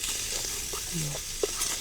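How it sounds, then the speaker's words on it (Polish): Water hits a hot pan over a portable camping stove in the forest, giving a steady, fairly faint hiss of sizzling with a few small pops and faint bits of voice. "Zdeglasujemy wodą."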